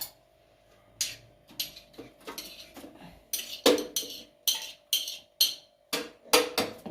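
Chopped onion tipped out of a Moulinex food processor bowl, heard as a run of sharp clinks and knocks on hard plastic and metal, irregular at first then more regular taps, close up with a steady faint hum underneath.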